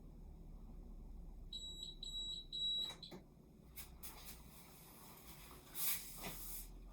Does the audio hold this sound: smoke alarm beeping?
yes